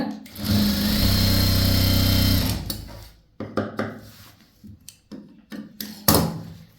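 A sewing machine runs a chudithar seam in one steady whirring burst of about two and a half seconds, followed by several short clicks and knocks from handling, close by and with no talking.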